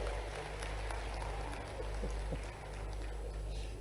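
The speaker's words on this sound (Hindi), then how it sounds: "जरा ताली बजाओ तो दिल से बजाओ" An audience applauds at the GIS Bhopal summit, a steady wash of many hands clapping at a distance, fairly faint, with a low hum underneath.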